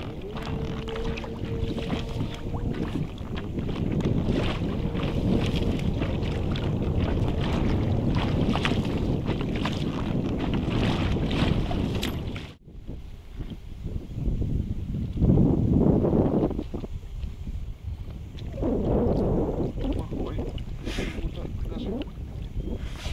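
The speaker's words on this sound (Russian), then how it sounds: "Блин, ну ветер, конечно, да." Wind gusting over a lake while fishing from a small boat, a steady rumbling buffet against the microphone that drops briefly midway and then picks up again, with splashes and handling noise and some faint talk.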